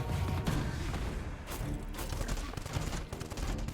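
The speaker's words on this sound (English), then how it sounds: "Let my turrets finish them off." Turrets fire in the video game Cinderia, a loud, rapid volley of overlapping shots and bursts that carries on without a break through the whole short stretch.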